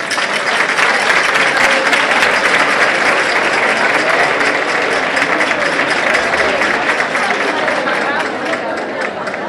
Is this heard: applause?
yes